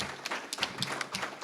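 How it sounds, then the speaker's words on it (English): Audience applause at a civic forum on crime and public safety, brief scattered clapping from a crowd welcoming a police chief to the stage, moderately loud and fading within a second and a half. "Please give her a round of applause as she comes."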